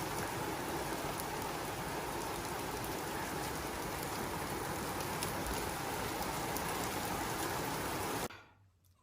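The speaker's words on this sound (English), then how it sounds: "We finally have rain." Steady rain falling outside at night, a dense even hiss of drops on surfaces that holds constant before cutting off abruptly near the end.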